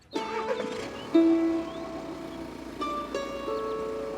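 A vehicle's engine cranked with the electric self-starter, a close mechanical whir with tonal whine that catches, surges louder, then settles into a steady idle with a second brief crank-like burst near the end.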